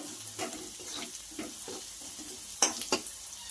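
Okra dropped into a hot pan of browned onions for a simple bhindi bhaji, giving a steady low sizzle with scattered stirring scrapes and a couple of sharper clinks near the end.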